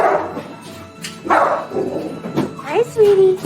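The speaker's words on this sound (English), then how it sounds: "As you can hear, it's very loud in our dog area." Many dogs bark and yip in the dog area of an animal shelter, loud and close in a reverberant room, with a person talking over the din.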